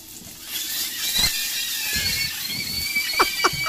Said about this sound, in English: These are videos of frying sausages that sound like people screaming.